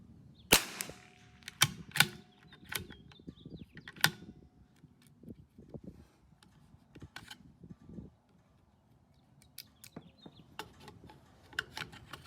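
A CZ 457 AT-ONE .22 LR rifle firing Wolf ammunition at a 50-yard benchrest range: a handful of sharp, spaced single shots with quiet gaps of handling clicks and mechanical rustle between them.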